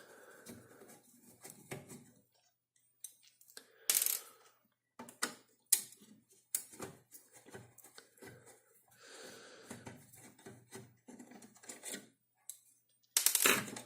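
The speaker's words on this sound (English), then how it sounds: "So I'll also unscrew this." Small screws are worked loose from the circuit board of a TR-169 8-track player, with scattered faint clicks, metallic ticks and handling noises, close up and intermittent with quiet gaps.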